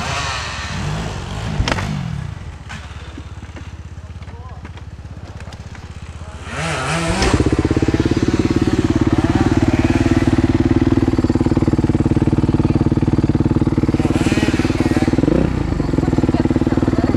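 Kawasaki KX450F motocross motorcycle engine on a dirt trail, idling loosely then revving up hard and holding a loud, steady high-rpm roar up close, with a brief dip and surge near the end.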